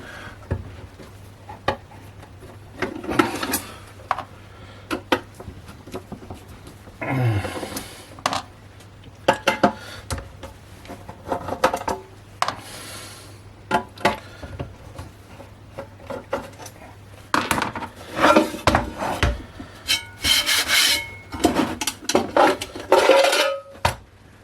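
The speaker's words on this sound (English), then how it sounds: "I'm just going to do a bit of deburring." Metal parts for a Naim power supply build are deburred by hand, with intermittent scraping, rasping and clinking strokes in irregular bursts, close and fairly loud, with short pauses between passes.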